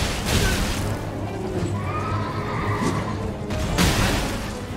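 A horse in the video game Elden Ring lets out a loud, close whinny amid combat noise and thuds, with a neigh repeating toward the end.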